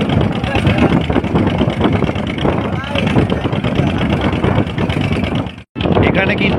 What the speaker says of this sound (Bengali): আজকের দিনে প্রায় কয়েক হাজার নৌকা কিন্তু এখানে চলাচল করে